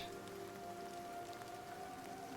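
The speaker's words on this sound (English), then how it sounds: "It rains way too long." Steady rain falling in the video game Nightingale, a continuous even patter of drops on surfaces with a faint tonal hum beneath.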